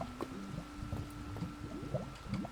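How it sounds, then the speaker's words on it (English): Liquid bubbles and gurgles in a Minecraft lava generator, with irregular soft pops over a low wash and a faint steady tone. "The bubbling is concerning."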